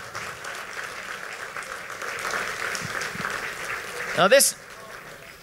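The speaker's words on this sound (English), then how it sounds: "Round of applause." Applause for volunteer award nominees at a community awards event, moderate clapping from a gathered crowd running under a speaker's voice, ending with a brief louder burst.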